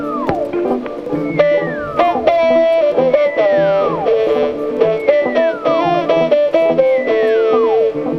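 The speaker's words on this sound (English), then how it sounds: "and then I have the other synth," A second synthesizer plays a repeating melodic phrase with swooping pitch glides over a steady pulsing backing, loud and continuous across the passage.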